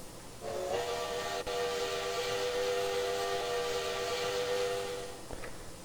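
A steam locomotive whistle from a historical 4-4-0 engine in the train simulator Trainz 2019 sounds as one long, steady chord-like blast with a hissy edge, lasting several seconds before cutting off.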